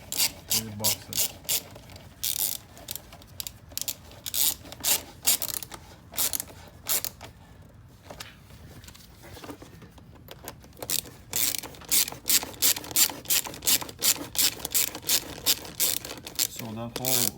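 Ratchet tightening bolts on the radiator fan of a 2012 Range Rover Sport, rapid repeated clicking bursts in close, loud runs separated by brief pauses.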